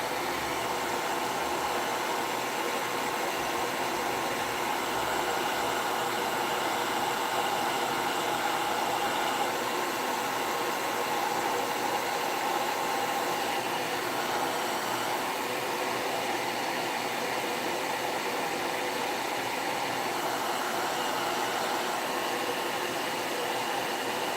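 A hair dryer dries a decorative coffee-themed craft piece. Its steady, loud, airy whir runs without a break for the whole stretch, and no voice is heard over it.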